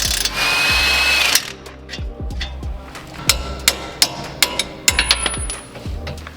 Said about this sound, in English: I finally invested in a high impact torque wrench.